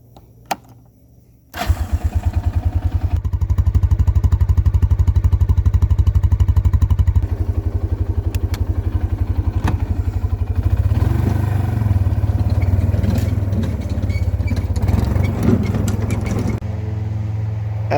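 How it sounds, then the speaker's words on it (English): A lawn mower engine starts up after a brief quiet moment and then runs loud and steady nearby for over ten seconds with a rough, pulsing drone, cutting down near the end. "My dad decided now is a great time to mow."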